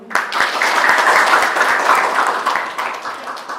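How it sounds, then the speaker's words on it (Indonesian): Students in a classroom clap for a classmate's question during a computer networking lesson. Close, dense applause starts suddenly and runs continuously for over three seconds. "Tepuk tangan dulu."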